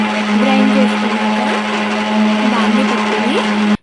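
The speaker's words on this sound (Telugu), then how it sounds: "ఇవన్నీ గ్రైండ్ చేసేస్తాను" Electric mixer grinder whirring steadily as it grinds spices and masala ingredients for Andhra-style chicken curry, a loud continuous motor drone with shifting grinding texture that runs the whole time, then cuts off abruptly at the end.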